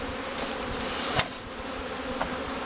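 Honeybees swarm around a hive in hot, dry weather, several of them stinging, with a steady close buzzing drone and a couple of sharper passes as individual bees fly right by.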